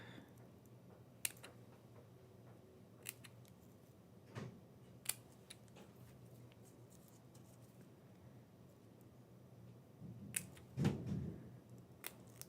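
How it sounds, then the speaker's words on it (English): Scissors trim paper flowers for a craft project, giving faint, sparse snips and clicks against a quiet room. "Trim these up."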